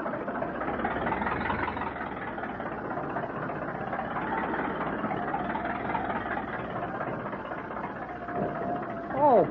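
A ship's engines drone in a steady, deep, continuous rumble with a faint rhythmic churn, as if the stern is lifting out of the water, and muffled voices sit underneath.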